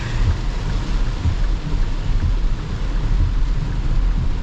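Rain drums on a 2023 Ford Ranger with the 2.7L V6 while driving, a steady dense patter over a low road and engine rumble, continuous and fairly loud.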